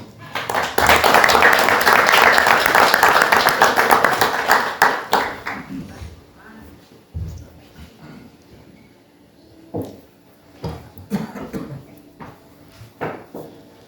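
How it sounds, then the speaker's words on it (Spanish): At a FIHNEC chapter meeting, the audience greets a guest with a loud, strong round of applause that swells for several seconds, then fades into scattered, isolated claps and knocks. "Lo recibimos con un fuerte aplauso"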